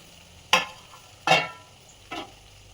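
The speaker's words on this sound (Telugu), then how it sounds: "ఇలా కాకరకాయలన్నీ వేగాలన్నమాట మంచిగా ఆయిల్లో" Pieces of bitter gourd hit hot oil in three separate bursts of sizzling and stirring, each one loud at the start and then fading, over a quiet background hiss.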